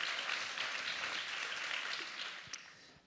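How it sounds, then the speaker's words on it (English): Audience applause from a live conversation event, steady and dense clapping throughout that thins slightly toward the end, heard alone without voices. "Applause."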